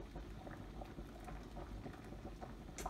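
Pasta water boils in a pot for spaghetti carbonara, with a wooden spoon laid across it. The bubbling is soft, quiet and continuous, with a patter of small pops.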